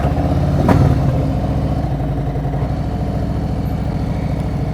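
A motorcycle engine idles and runs at slow speed during an advanced slow-speed riding practice session, a steady low rumble with a brief louder burst near the start, heard close with no talk.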